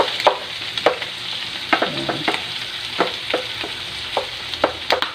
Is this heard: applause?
no